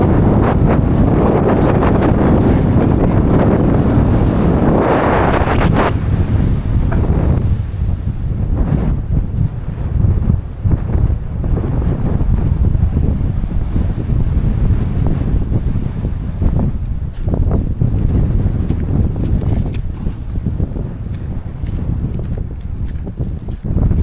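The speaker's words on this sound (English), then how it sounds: "it's slightly breezy today" Strong wind buffets the microphone at the coastal ruins of New Slains Castle in Cruden Bay, Aberdeenshire, a constant loud rushing roar with gusting swells and faint surf beneath, no talk.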